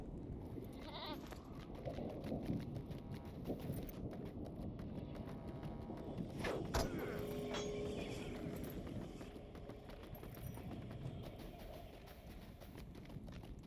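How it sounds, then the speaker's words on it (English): Goat mount hoofsteps in Lord of the Rings Online, a steady trotting clip-clop of hooves with occasional bleats, moderately loud over a continuous game ambience. "Let me get on the goat actually now that we're relatively safe."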